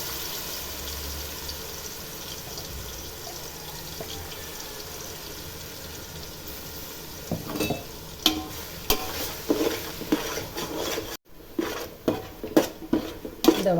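Ground onion, green chili and garlic paste sautéing in a pan for Dindigul biryani, a soft, steady sizzle overlaid with a spoon scraping and knocking against the metal pan, the clinks growing louder and more frequent toward the end.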